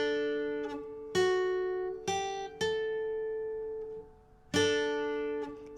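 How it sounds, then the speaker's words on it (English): Guitar plays the final bar of the riff: a handful of plucked notes and a sustained chord ringing out and decaying, quiet and close with no voice. "So the final bar is going to sound like this."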